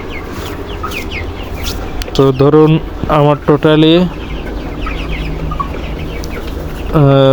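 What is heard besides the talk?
chickens clucking while being weighed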